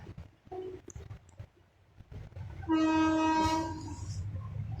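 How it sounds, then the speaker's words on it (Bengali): The Uttar Banga Express passes close by a house, a loud sustained horn blast over heavy rumbling of wheels and carriages that continues after the horn fades. "এখন আমার বাড়ির সামনে দিয়ে যাচ্ছে দক্ষিণবঙ্গ না উত্তরবঙ্গ, উত্তরবঙ্গে এক্সপ্রেস যাচ্ছে।"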